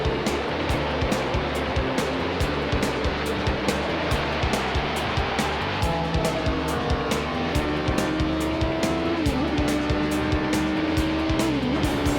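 Racing cars at around 200 mph on a road circuit, engines roaring steadily with rising and falling pitch sweeps as cars pass, loud and continuous with no talk.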